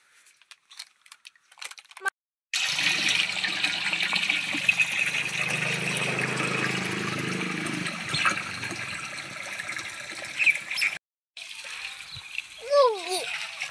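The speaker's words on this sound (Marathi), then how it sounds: "इकडे झाडाला पाणी द्यायचं आपल्याला." Water pours and splashes steadily onto garden plants for about eight seconds, following short clattering sounds and then brief silence, with faint household noise and a few tonal chirps near the end.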